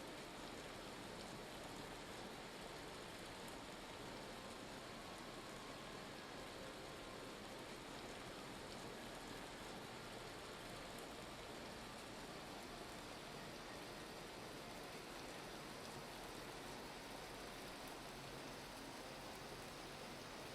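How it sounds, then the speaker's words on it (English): Steady rain falls in a video game, a dense even hiss of drops on surfaces that continues without a break. "Is that hail? Is there a hailstorm around coming right now?"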